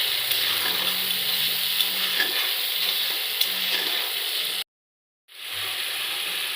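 Salt and turmeric being stirred into spices in a pan while cooking gugni, a steady scraping sizzle that runs on, cuts to silence briefly near the end, then resumes.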